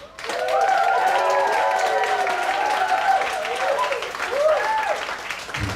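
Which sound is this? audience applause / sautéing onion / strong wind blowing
audience applause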